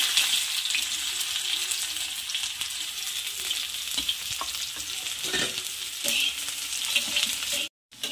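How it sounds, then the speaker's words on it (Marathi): Onion sizzles in hot oil with mustard seeds and cumin, a loud, steady hiss with occasional stirring scrapes and small crackles, close up and uninterrupted until a brief cut near the end. "आता कांदा ॲड करायचा"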